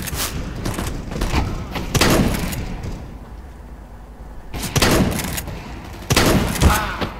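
Gunfire in Counter-Strike: Global Offensive rings out as bursts of sharp, loud shots, several quick volleys separated by a quieter pause, with no voices over them.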